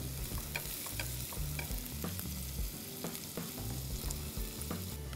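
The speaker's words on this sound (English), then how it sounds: "We're just going to mix these around for a bit till the onions go soft." Sliced onions stirred and fried in hot oil for rajma biryani: a continuous soft sizzle under repeated scraping spoon strokes in an uneven rhythm, close but quiet, with no voices.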